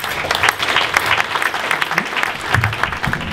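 A conference audience at a Cité des Métiers network winter school event applauds together, dense steady clapping filling the room throughout, with a few voices faintly audible beneath.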